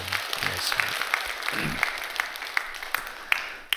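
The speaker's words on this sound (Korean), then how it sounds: "여러분 다시 한번 분예를 위해서 박수 한번 해주셔요." A church congregation applauds during a sermon, a soft, continuous patter of many hands clapping with a few sharper claps standing out and a voice speaking briefly in the middle.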